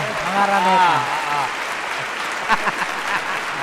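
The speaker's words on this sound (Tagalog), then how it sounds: "Ito yung 20 minutes na palakpak" A studio audience at a variety show breaks into sustained applause, a broad, steady clatter of many hands. A voice speaks over it at the start, and a few louder claps stand out later.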